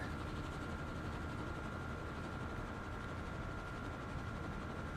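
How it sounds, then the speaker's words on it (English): Helicopter in the video game Firewatch, a steady, continuous rotor and engine drone with a faint high whine, constant in level throughout with no talk. "Where's the helicopter?"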